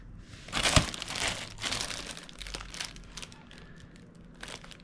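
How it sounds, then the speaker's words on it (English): Plastic wrapping on a sim racing rig part being pulled open and crinkled up close, a dense burst of crackling early on that settles into softer intermittent rustling and crinkles. "And go ahead and open up the plastic"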